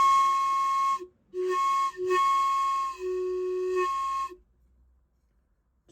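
A homemade locomotive whistle blown hard in several blasts, shrill and jumping between two distinct tones from overblowing, loud and close, with short gaps between bursts.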